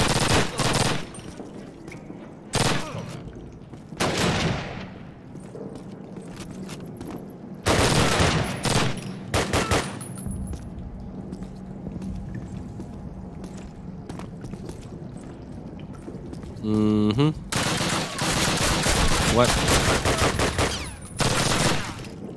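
Assault rifle gunfire in the Call of Duty shooter game: repeated loud, sharp bursts of automatic fire scattered across the scene, separated by quieter stretches of ambient noise and a brief mechanical clatter.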